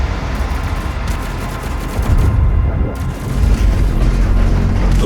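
The BFG 10,000 firing in Doom Eternal, a loud, sustained rumbling barrage of heavy booms and crackling blasts rolling continuously, deep and powerful with a brief lull partway through.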